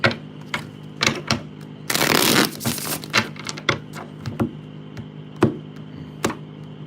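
Tarot cards are riffled in one brief, rustling shuffle, surrounded by scattered soft taps and knocks of the deck against a surface.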